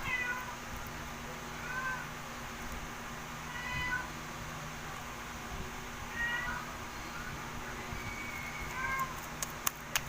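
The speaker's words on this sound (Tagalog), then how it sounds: "It's just my cat" House cat meowing indoors, several faint, separate meows spread over a low steady background hum, with no other clear sounds.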